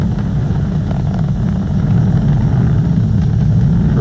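Falcon 9 rocket engines throttled down ahead of maximum dynamic pressure during a SpaceX launch, a steady, heavy, low broadband roar that stays loud and continuous throughout, with no talk.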